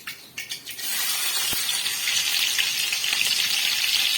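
Mustard and cumin seeds hitting hot oil for a Maharashtrian okra and amaranth greens dish give a steady, loud sizzling hiss that rises after a few light taps and runs on without talk.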